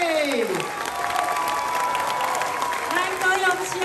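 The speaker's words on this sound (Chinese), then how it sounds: "咱再一次热烈掌声，甲苏贞昌议长热烈的掌声鼓舞起来" Crowd applause at a book-signing rally in a Kaohsiung department-store bookstore, steady clapping with scattered cheers over nearly four seconds, while an amplified voice speaks over it.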